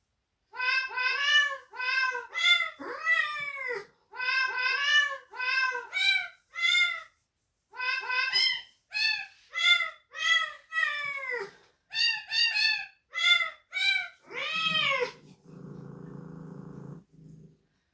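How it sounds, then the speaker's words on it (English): A smart speaker plays a cat meowing the tune of Happy Birthday, a long run of clear pitched meows in a sung rhythm, ending with a brief burst of low noise. "Alexa, ask the cat to sing happy birthday."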